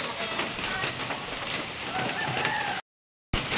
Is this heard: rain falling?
yes